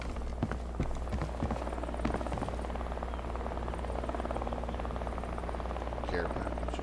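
Helicopter in the video game Deadside flying overhead, a steady low rotor drone running continuously beneath scattered footsteps and game sounds.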